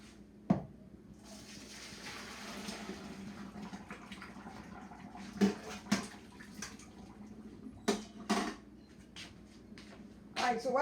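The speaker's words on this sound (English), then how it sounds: "And I'm going to empty this water." Water being poured out in a kitchen, a faint splashing run with a few sharp knocks and clatters from a pan, plus brief bursts of running water near the end.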